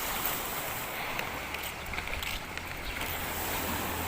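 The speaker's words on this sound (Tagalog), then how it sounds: "ito na maririnig nyo yung hampas ng mga alon dito sa tabi" Waves washing against the shore at a bay in Laguna make a steady, broad rushing wash. It is moderately loud and continuous, with light wind and no speech.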